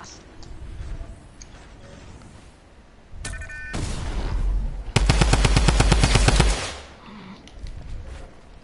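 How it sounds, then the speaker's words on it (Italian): Rapid automatic gunfire and explosions from an online shooter video game with grenades, a dense burst of rattling shots near the middle after a louder blast, with faint talk around it. "Sì, io sparo a Domenico"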